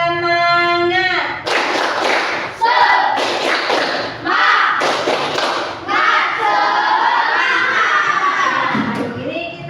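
Children in an Indonesian classroom chant and clap the rhythmic 'tepuk semangat' routine, a loud burst of voices with sharp claps and shouting that follows a teacher's sustained sung greeting, continuing in lively waves to the end.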